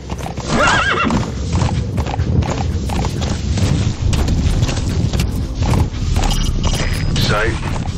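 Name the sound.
horse galloping and neighing in a video game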